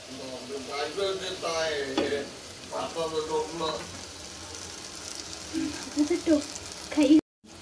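Onion-garlic paste with chili and salt fries in oil, a soft steady sizzle under intermittent speech, with occasional stirring clatter before an abrupt cut near the end.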